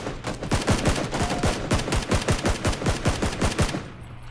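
Rapid automatic gunfire in PlayerUnknown's Battlegrounds, an evenly spaced burst of sharp shots repeating quickly for several seconds at moderate loudness, then cutting off.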